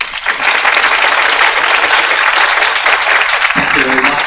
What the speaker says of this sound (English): So I suggest a round of applause for the panelists.